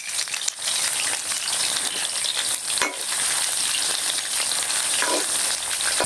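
Chicken 65 pieces frying in hot oil for a restaurant-style dish, a dense, steady sizzle and crackle that fills the whole stretch at an even, close level.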